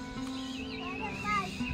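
A horse neighs in a long, wavering whinny close by, with a child and adults chattering faintly in the background.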